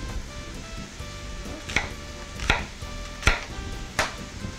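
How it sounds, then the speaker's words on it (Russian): Four sharp knife chops through leek strike a cutting board at a steady, unhurried pace against a low kitchen hum. "Нарезаем лук-порей"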